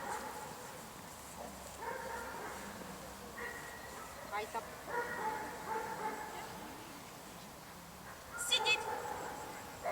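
A dog barks, yips and whimpers in short bursts during obedience training, fairly close by, while a trainer speaks commands and remarks around the sounds.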